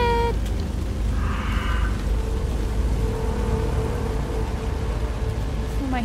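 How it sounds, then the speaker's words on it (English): Steady rain falls throughout a dark outdoor scene in the horror game Alan Wake 2, a constant broadband hiss, with faint tonal game sounds and a brief murmur of a voice drifting through the wash. "It also just conveniently started raining and now it's darker outside."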